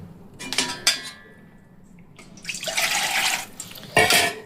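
Water drains through a strainer into a metal bowl while utensils clink and the pot knocks against it, in short bursts of splashing and trickling with brief pauses between.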